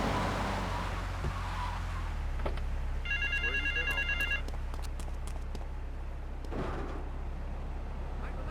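A payphone in GTA 3 rings for about a second in a rapid electronic trill. A car engine drones and tires skid in the game's street traffic around it, and a voice is briefly heard.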